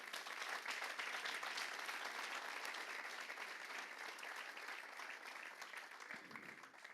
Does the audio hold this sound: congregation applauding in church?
yes